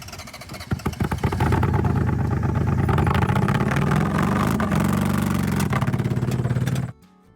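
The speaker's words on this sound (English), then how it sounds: "this customer came in with their minivan saying it sounded louder than normal after their son had borrowed it for the weekend" A minivan's engine and exhaust, running louder than normal, start with sputtering pulses, then settle into a loud, close, rough drone with a rising rev before cutting off abruptly.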